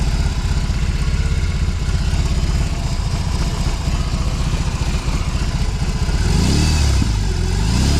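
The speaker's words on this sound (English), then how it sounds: "You've heard the exhaust from the front." A BMW R18C motorcycle exhaust, heard from the front, rumbles loudly and steadily up close, then revs higher toward the end.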